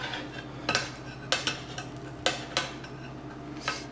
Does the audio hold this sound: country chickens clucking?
no